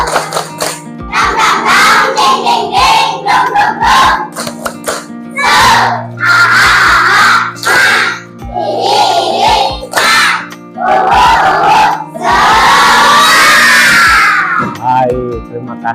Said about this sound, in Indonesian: Bapak ingin kalian tepuk semangat dulu.